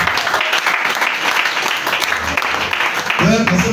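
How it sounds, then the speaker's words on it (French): Applause for newlyweds at a French-speaking wedding or church celebration, a steady wash of clapping from a crowd filling the whole moment, with voices mixed in and a brief spoken line near the end. "On acclame encore pour les mariés."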